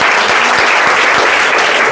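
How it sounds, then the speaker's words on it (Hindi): Students clap together at a school prize distribution for a grammar test, a loud, dense burst of hand claps filling the room for about two seconds, with no one speaking over it. "चलिए बहुत अच्छा, ताली बजाओ"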